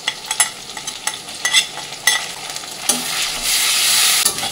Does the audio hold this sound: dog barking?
no